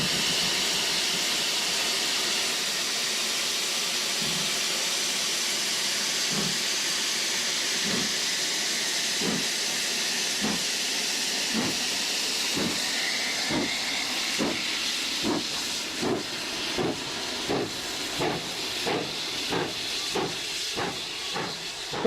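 GWR 4965 Rood Ashton Hall steam locomotive hissing a continuous jet of steam, with regular chuffs that come faster and sharper as the engine starts to move.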